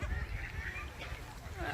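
Geese or other birds honk and call in a noisy crowd while being fed bread, under steady outdoor noise, faint and somewhat distant.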